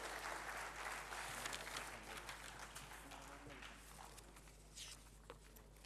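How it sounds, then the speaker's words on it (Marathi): Audience clapping to welcome a guest at a school golden jubilee celebration, a dense crowd patter that starts fuller and gradually thins, heard at moderate distance with a low steady hum underneath. "त्यांचंही आपण एकदा टाळ्या वाजवून स्वागत करूयात"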